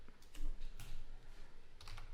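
Soft, steady typing on a computer keyboard, quiet and close, with a continuous patter of keystrokes and a few louder clicks.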